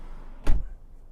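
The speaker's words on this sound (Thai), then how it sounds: "อ่ะปิดประตูนะครับ" A Mazda CX-5 car door shuts with a single sharp, heavy thud near the microphone, followed by quiet.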